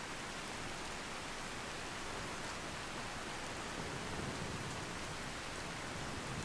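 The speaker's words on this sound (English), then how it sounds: "it's raining hard" Heavy rain in the video game Skyrim makes a steady, even hiss throughout, soft and unbroken, with no voices.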